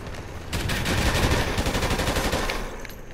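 Gunfire in the video game Call of Duty Ghosts, a loud continuous automatic burst with rapid rattling shots layered over dense battle noise, no talking.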